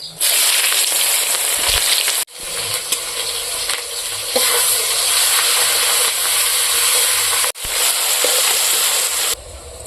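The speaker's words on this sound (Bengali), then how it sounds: "এখন আমি মাছ ভাজা তেলের মধ্যে পাঙাশ মাছের যে ঝোলটা করব তার জন্য আমি সাদা জিরে দিয়ে দেব। দেব 2টা শুকনো লঙ্কা, কাঁচা লঙ্কা আর পেঁয়াজ কুচি।" Cumin, two dried chillies, green chillies and chopped onion sizzling in hot oil left from frying pangas fish for a village-style curry, a loud steady hiss broken twice by brief drops.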